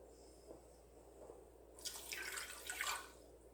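Water pours into a container while banana milk is being made at home, a quiet room tone giving way to a splashing, gurgling stream that lasts about two seconds.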